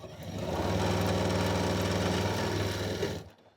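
Janome M8 or M6 sewing machine stitching a straight seam at full speed: a fast, even mechanical whir with rapid needle chatter, close and steady for about three seconds before it stops abruptly.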